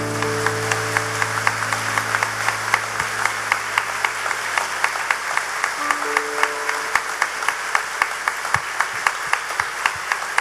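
A church congregation at Mass applauds with scattered, sparse claps over a sustained low organ-like drone, the clapping fairly even and moderately loud throughout.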